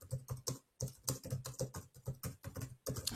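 Rapid bursts of keystrokes on a computer keyboard as text is typed into a word processor, close and clear with brief pauses between runs and no talking.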